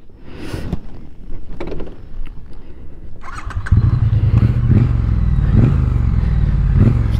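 A 2021 Triumph Bonneville T100 motorcycle is started on a gravel stop: a few seconds of rustling and clatter, then the engine catches and settles into a steady, loud, close rumbling idle.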